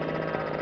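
The electric ducted fan in an F-14 model jet spins up with a steady, dense whirring drone, close and continuous throughout, with no voices over it.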